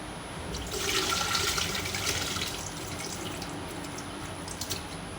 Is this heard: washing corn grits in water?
yes